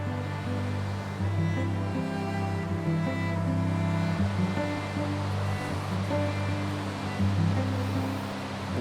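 The lower falls of a waterfall at Wulai roar in a steady, full rush of falling water, constant and fairly close.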